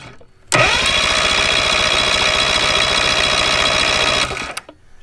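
An outboard motor is cranked over by its starter with a spark timing light on the number one plug, giving a steady, loud, rapid mechanical whir for about four seconds before stopping abruptly.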